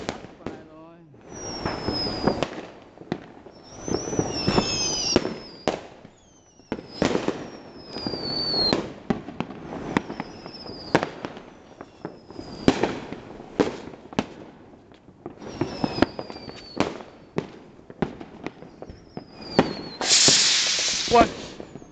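New Year's Eve fireworks burst over a hometown in Vietnam, with repeated sharp cracks and rumbling booms at a moderate distance, some whistling rockets rising before the bangs, while people chat nearby.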